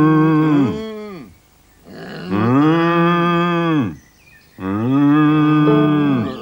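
Cow mooing three times in a row, long loud close calls each bending downward at the end, separated by brief quiet gaps.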